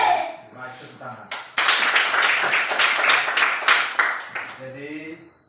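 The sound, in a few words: children clapping hands in class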